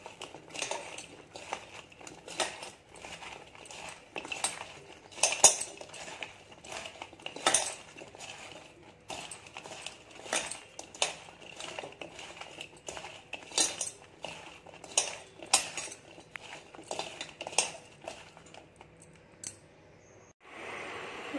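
A spoon scrapes and clinks in a bowl, mixing parwal pieces with rice flour in a steady, uneven rhythm of small metallic taps and rubs, close and fairly quiet, no voices.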